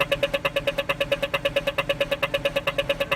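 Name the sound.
Australian pedestrian crosswalk rhythmic walk signal sound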